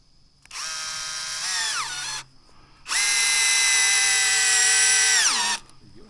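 A power drill drives U2 fasteners into timber on an outdoor pavilion build, whirring in two loud bursts, a shorter one and then a longer one, each slowing as it winds down, with no talk over it.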